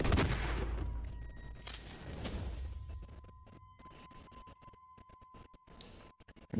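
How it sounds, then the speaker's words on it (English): Gunfire in the Red Dead video game, a dense burst of shots up front that thins into scattered, sharper individual shots with gaps of near silence, loud at first and then moderate. "Look at this, just shooting."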